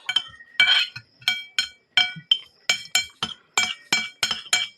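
Dishes clink again and again at close range as children eat noodles at a meal, a run of sharp, bright taps in an irregular rhythm with brief pauses and no talk.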